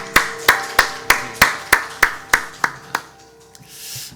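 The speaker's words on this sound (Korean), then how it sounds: "우리의 생명, 우리의 주권자 되신 예수님께만 감사와 찬양의 박수 드리기 원합니다" A church congregation at a morning service claps in unison, about ten evenly spaced, sharp claps at a steady beat that stop abruptly, leaving faint room noise.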